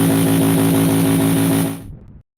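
A Harley-Davidson Pan America V-twin engine with a single exhaust revs and rumbles loudly with a throbbing, uneven pulse, then cuts off abruptly, leaving a short fading tail before silence.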